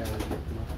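Racing pigeons coo steadily at close range, a low, soft, continuous murmur filling the short moment with no other sounds around.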